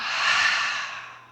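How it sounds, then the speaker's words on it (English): A single long, soft exhale through the mouth during birth-preparation yoga breathing, close and breathy, fading out gradually with no talking. "Exhale through the mouth."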